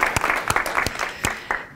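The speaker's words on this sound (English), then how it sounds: "Big round of applause for yourselves." Brief, thin round of applause from a workshop audience during a career talk on becoming a manager, with a few separate sharp claps standing out over a soft wash of clapping.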